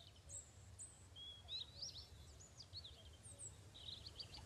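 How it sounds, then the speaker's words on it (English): Birds chirp and tweet faintly in the Mist Survival video game, with scattered high calls over a low, steady ambient rumble. "Yeah, I hear the birds."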